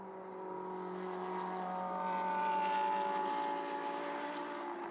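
A GT race car engine at the Mugello circuit drones steadily at a distance, its tone swelling and fading slightly as it passes, with no talk over it.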